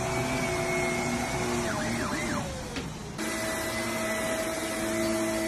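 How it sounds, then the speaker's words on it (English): A vacuum cleaner drones steadily with a whining tone, briefly dipping and warbling in pitch midway before resuming its constant hum. "I found a pig that really, really hates vacuum noise."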